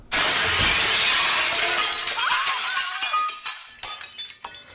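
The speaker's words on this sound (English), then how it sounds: "with a world-shattering crack, the tunnel gave way." A glass tunnel shatters as an audiobook sound effect: a loud crash of breaking glass followed by tinkling shards scattering and settling, fading into scattered clinks.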